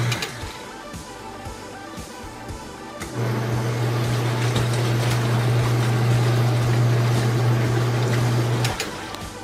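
Washing machine running its rinse cycle with fresh water: a low background rumble, then a loud steady motor or pump hum that starts partway through and runs for several seconds before cutting off, no talking.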